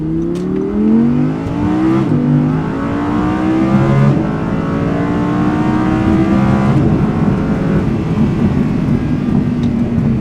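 A V10 supercar engine revs hard and loud, pitch sweeping up through repeated climbs and shifts, a continuous roaring howl up close with no talking.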